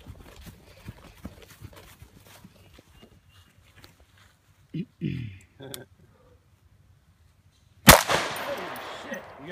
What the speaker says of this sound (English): You got a detonation?